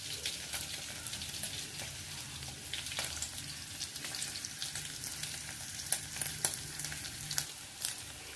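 Bagoong alamang (shrimp paste) fries in olive oil in a pan, a steady soft sizzle with scattered small pops throughout, fairly quiet and close, with no talking.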